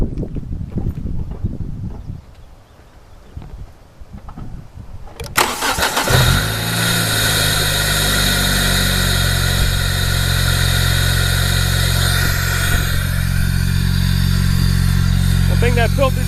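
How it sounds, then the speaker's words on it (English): A 2004 Kia Spectra EX 2.0 litre engine cranks and catches, then settles into a loud, steady idle that runs on continuously, close to the microphone. "start the car real quick."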